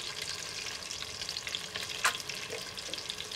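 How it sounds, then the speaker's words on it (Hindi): Eggs fry in a pan with a continuous close sizzle and crackle, interrupted by one sharp clink or scrape near the middle. "इसको हम थोड़ा सा फ्राई कर लेंगे"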